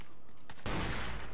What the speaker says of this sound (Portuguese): Eu não sei nem onde esse cara tá atirando, velho.